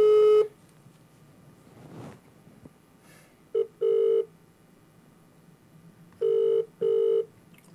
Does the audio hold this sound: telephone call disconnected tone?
yes